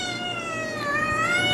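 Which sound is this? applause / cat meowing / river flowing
cat meowing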